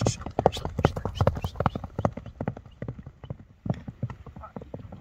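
Horse hooves clatter in a fast, rhythmic gallop close by, running steadily through the whole stretch, with a whinny or rider's shouts mixed in at moments.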